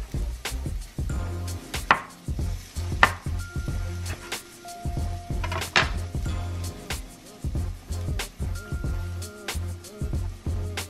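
A knife cuts food into shapes on a cutting board in a home kitchen, with a dozen or so sharp, separate knocks at an uneven pace, fairly quiet, with low hum and faint clatter between strikes.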